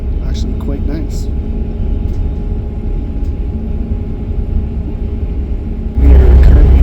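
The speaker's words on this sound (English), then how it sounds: "We are currently driving down the I-5 or Interstate 5 highway that goes all the way down south through to California." A car cruises along Interstate 5 through the forested stretch of Washington State, its cabin filled with a low steady road rumble and engine hum, which grows louder near the end, with speech heard over it.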